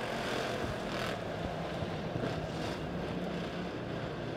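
Dirt track pure stock race cars roar around Springfield Raceway at the green flag, a dense, continuous engine drone from a pack of cars heard from a distance with no clear talk.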